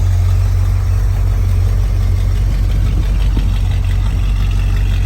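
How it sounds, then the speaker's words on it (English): A 1969 Corvette Stingray with a matching-numbers 350 V8 idles steadily, its quiet, smooth exhaust exiting through the rear tail panels, a continuous low rumble held close and even throughout. "Quiet, beautiful exhaust."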